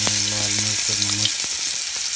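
Potatoes fry in oil with red chilli and salt, giving a loud, dense sizzle close by. A steady low hum runs under it for the first half, and occasional clicks mark the pan being stirred.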